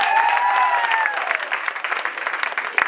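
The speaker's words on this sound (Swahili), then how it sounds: "Wapi makofi yake tafadhali?" An audience at a women's day gathering bursts into loud applause, with dense clapping that stays steady and then thins toward the end.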